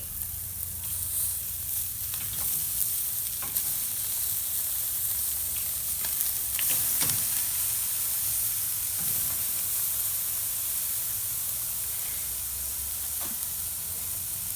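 Thick ribeye steaks sear on a Ñuke Delta grill, a steady close hiss and crackle of fat with brief scraping clicks as they are turned, no talk over it.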